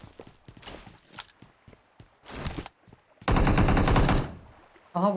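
PUBG Mobile gunfire cracks out in scattered single shots, then a short burst and a sustained loud automatic volley of over a second, with quieter footsteps and movement sounds between.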